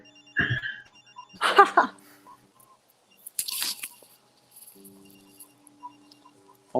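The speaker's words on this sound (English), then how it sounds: "I wanted him to answer that phone right away." A telephone rings in short bursts, loud and close, with gaps of quiet between the rings.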